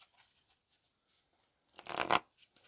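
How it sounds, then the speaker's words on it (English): A short burst of tarot cards being shuffled near the end, a quick riffling rush after near silence, close and fairly soft. "let's go ahead and give these cards a good shuffle."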